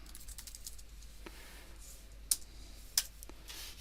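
Mouse clicks while drafting in AutoCAD: two sharp, isolated clicks a fraction of a second apart, near and fairly quiet, with soft keyboard-like ticks scattered over a low room hiss.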